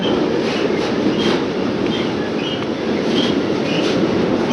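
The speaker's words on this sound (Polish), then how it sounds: "bo ten pociąg ciągle nade mną jedzie, bo nade mną jest most kolejowy" A freight train rumbles across a railway bridge directly overhead, a loud, steady, continuous roar of wagons and wheels with no talking.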